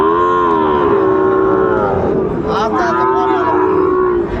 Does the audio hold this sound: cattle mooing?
yes